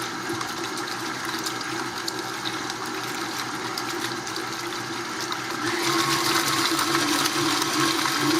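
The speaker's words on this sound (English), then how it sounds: "And then you pour the water out." Water pours out of a mixing bowl of freshly made butter pressed to one side, a steady splashing gush that swells louder toward the end, heard alone without talk.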